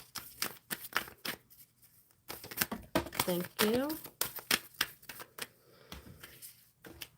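A deck of oracle cards is shuffled by hand in irregular bursts of crisp riffling and slapping, close up, with a person speaking briefly.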